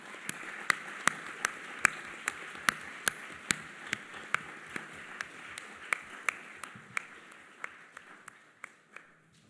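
Audience applause for the chairs at a Model UN opening ceremony, heard as sparse, distinct hand claps of a modest crowd in a hall, evenly spread and moderately loud, thinning out toward the end.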